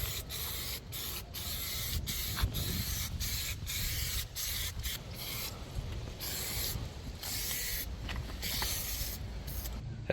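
Rattle-can spray paint applied as a third coat to faded plastic trim on a Lexus RX, heard as close hissing bursts in a rapid on-off rhythm with no one speaking.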